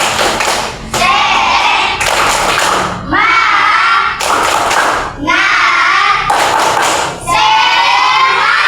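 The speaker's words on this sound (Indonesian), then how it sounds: "kita tepuk semangat dulu ya" A classroom group does the rhythmic 'tepuk semangat' spirit clap, loud blocks of clapping and voices coming in about six quick bursts separated by short breaks.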